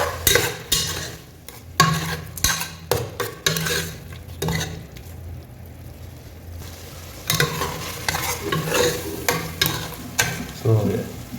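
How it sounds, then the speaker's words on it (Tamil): Half a kilo of beef pieces frying in hot oil for biryani, repeatedly stirred in the pan with a spoon, giving a steady sizzle broken by scraping, clattering bursts, with no talking. "ஸோ கொஞ்சம் கறி நல்லா எண்ணெயில் பிடிக்கிட்டோம்"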